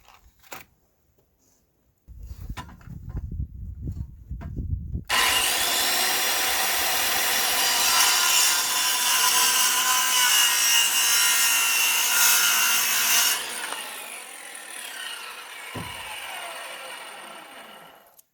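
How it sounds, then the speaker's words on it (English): Wooden boards for a collapsible jump ramp are sawn with a loud, continuous power-tool whine for several seconds. Quieter rasping handsaw-like strokes come first, and the cut winds down afterward. "Okay, I've made several cuts. Got some boards cut up."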